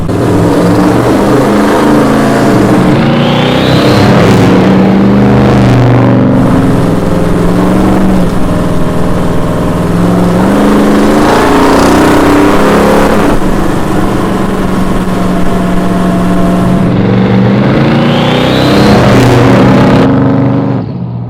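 A custom Ford Galaxie 500 V8 revs hard and close by, very loud, with three long surging rises and falls of the engine, each climbing to a roaring peak before dropping back.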